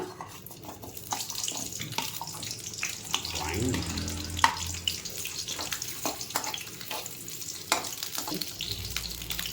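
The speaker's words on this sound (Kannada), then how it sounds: "ಎಣ್ಣೆ ಚೆನ್ನಾಗಿ ಕಾದಿದೆ ಬನ್ನಿ ಫಸ್ಟ್ ಈರುಳ್ಳಿ ಹಾಕೊಳ್ಳೋಣ" Onions dropped into hot cooking oil in a pan for a Kannada meat curry, a close hissing sizzle with stirring scrapes and clatter, no speech.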